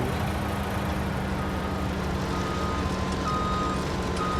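Vehicle in Farming Simulator 19 on a Michigan farm map, a steady electronic beep sounding as it drives forward, over a constant engine drone throughout.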